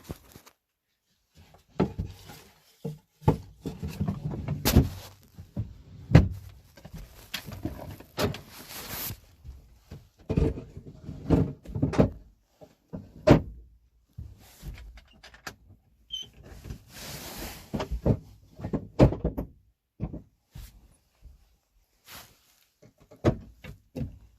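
A drawer in a camper van is slid back into place and relatched, with scattered clunks, knocks, rattles and sliding scrapes coming in irregular bursts with quiet gaps, heard up close.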